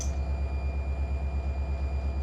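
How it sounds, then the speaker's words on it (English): A locomotive idles in Run 8 Train Simulator on the Trona Railroad, a deep, steady low rumble with a gentle pulsing throb, close and continuous, with no voices. "these engine sounds they're really good"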